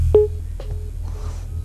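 A telephone disconnect tone on a live call-in TV programme: three short, low beeps repeat at a steady pace over faint line hiss and a low hum.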